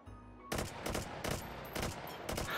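Rapid bursts of QBZ-95 rifle fire in the VR shooter Hot Dogs, Horseshoes & Hand Grenades, several loud close shots in quick repeated volleys after a brief quiet start.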